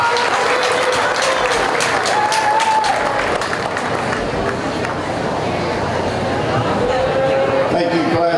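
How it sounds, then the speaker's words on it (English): A crowd at a county fair market steer show claps steadily throughout, dense sustained applause filling the show ring with some cheering and voices mixed in. "Let's give these kids a big round of applause."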